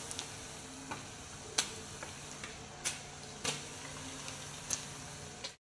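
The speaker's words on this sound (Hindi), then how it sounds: "हाँ हो रहा है पनीर फ्राई" Paneer fries in a pan with a soft, steady sizzle, broken by scattered sharp pops and ticks, heard close but quiet.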